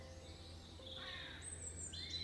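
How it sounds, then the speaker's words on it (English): Birds in a forest give a few thin, high chirps and short calls at a moderate distance over a steady low hum, with no one speaking. "Listen to the birdsong"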